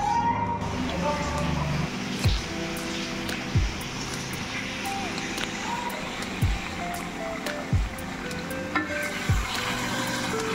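Mutton sizzles steadily in a pan as khasir mangsho bhuna is fried, a dense continuous crackle with occasional sharper clinks from stirring.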